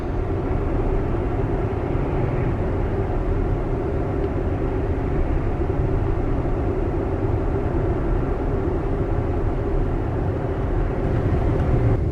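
A steady, loud rumbling roar holds without pause throughout, like a heavy train rolling by close at hand.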